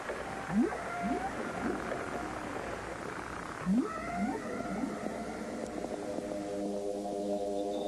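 Underwater whale song: sweeping upward whistles and moans repeat in two phrases, followed by a low, layered, droning call, fairly faint and echoing.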